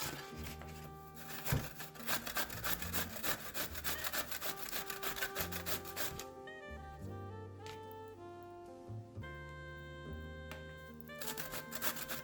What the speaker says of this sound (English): Now we are going to grate this zucchini.